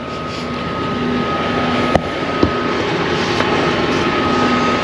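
Farm tractor engine during oat planting, cranked up and running with a steady, close, droning rumble that holds for several seconds, with a couple of brief metallic clicks partway through and no voices.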